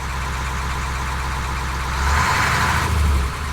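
Close by, the engine of an aging Allis-Chalmers wheel loader idles with a steady low rumble, swelling slightly for a moment before easing back to its even drone.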